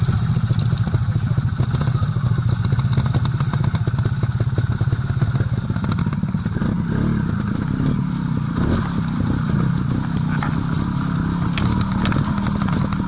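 A motorcycle engine idling low and slightly rough, a steady close putter with rapid rhythmic pulses and some clattering thumps, running continuously without talk.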